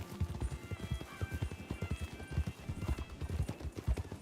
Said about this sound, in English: Good eye for spotting the horses.